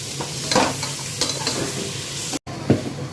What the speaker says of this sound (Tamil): இந்த ஸ்டேஜில் வந்து நம்ம தக்காளி சேர்த்து நல்லா வதக்கிறோம்